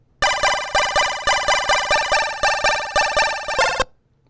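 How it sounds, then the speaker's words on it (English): A bright, ringing chiptune synth riff from the maxYMiser tracker repeats in quick pulses, each note trailing into echo-like repeats that fake a delay effect and fill out the sound; steady and loud, then stopping abruptly. "give the feeling that there is a delay effect happening on the riff"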